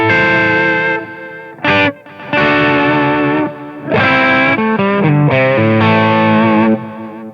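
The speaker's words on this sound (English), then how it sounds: "It reminds me of the best studio delays off the console." An electric guitar played through an amplifier with distortion and delay, loud sustained chords and notes in phrases with short gaps, repeats trailing and smearing into each other with a chorus-like shimmer.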